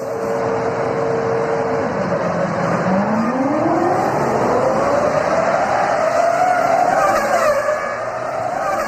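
Formula 1 cars race at the 2005 Indianapolis Grand Prix, a loud engine roar whose pitch climbs steadily as a car accelerates past, with more engines droning beneath it and no talking.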